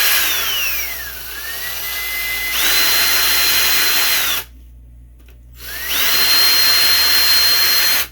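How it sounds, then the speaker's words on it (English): A power drill, used as a saw, whines loudly as it cuts through material, pitch dipping under load, stopping briefly, then revving up and cutting again. "You can basically use a drill as a saw if you have to."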